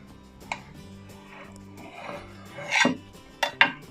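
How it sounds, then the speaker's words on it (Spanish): A knife cuts through a homemade Camembert cheese, giving a soft scraping rasp near 2.8 seconds, then sharp clicks of the blade on a board or plate. A steady low hum runs beneath, and no one speaks. "Vamos a cortar el segundo para que lo veamos."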